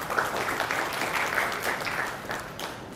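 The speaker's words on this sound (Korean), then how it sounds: "여러분의 큰 박수 부탁드립니다." Audience at a smart factory conference in Seoul applauding a speaker's introduction, a moderately faint, steady patter of many hands clapping throughout.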